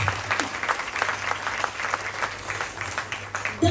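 Audience applause at an event, a steady dense patter of many hands clapping throughout, fairly close and full.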